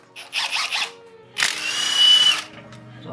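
A power tool loosens cylinder head bolts on a Honda Prelude engine, giving a short whirring burst followed by a longer rising whine and squeal, close by, with a voice heard just before.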